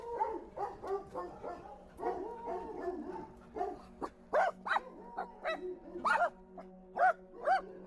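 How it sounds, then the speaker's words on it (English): Several dogs bark and yelp repeatedly at moderate distance in a forest, with overlapping barks in irregular bursts and some whining between them. "they're barking at us"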